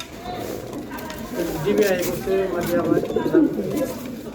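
Racing pigeons coo in a soft, repeated throaty burble close by, several calls overlapping with faint human voices in the background.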